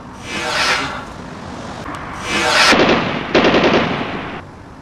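Close, rapid bursts of automatic gunfire ring out in a tense hospital standoff, with a short volley, a pause, then longer rattling strings of shots.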